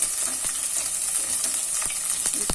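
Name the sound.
chana dal frying in oil tempering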